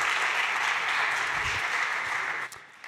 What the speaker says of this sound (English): A big round of applause to Andre Iski from MainCard